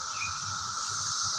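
17-year cicadas droning outdoors, a continuous high-pitched buzzing chorus at a moderate distance, steady and unbroken, with no voices.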